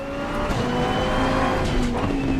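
GT race car engines from the GT2 and GT4 classes in Assetto Corsa Competizione howl loudly and continuously, with pitch shifting as the cars change gear and some tire noise mixed in. No voices are heard.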